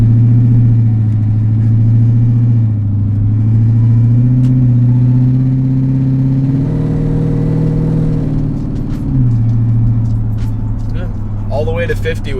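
A lowered Lexus LS400 sedan's engine and exhaust drone steadily as the car accelerates on the road, holding a low rumble that steps up in pitch before settling; continuous interior engine noise with no talk.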